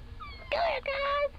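A cat in a cute cat compilation gives two drawn-out meows in a row, clear and close, over faint background noise.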